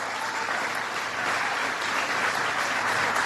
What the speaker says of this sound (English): How about a big round of applause for all the skilled craftsmen and women who make Frame USA such an